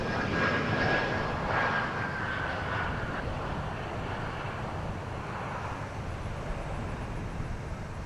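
A SkyWest airliner, flight 6503 from Durango, roars at Dallas Fort Worth International Airport. The engine noise is loud and steady, a broad rumble that fades slowly over eight seconds.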